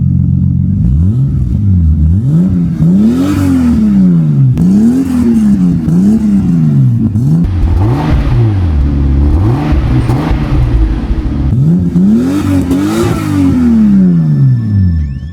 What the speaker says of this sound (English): And this is what it sounds like with the catalytic converter welded in.